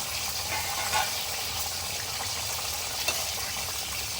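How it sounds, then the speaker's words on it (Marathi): Pomfret fish fry in hot oil in a pan with a steady, close crackling sizzle throughout, a faint clink or two rising briefly above the hiss. "अशा प्रकारे सगळे पापलेट फ्राय करून घेते"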